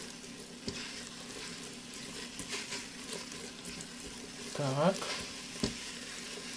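Carrots and onions frying in a multicooker bowl for pilaf, stirred with a silicone spatula: a steady soft sizzle with scraping strokes. A voice speaks briefly once.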